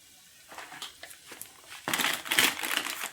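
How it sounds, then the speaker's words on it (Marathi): Red chili powder frying in hot oil over a low flame for Maharashtrian amti gives a soft crackling sizzle, quiet at first and then louder and denser midway through, with no talking. "मंद आचेवर फ्राय करूया। मी टाकत आहे लाल तिखट।"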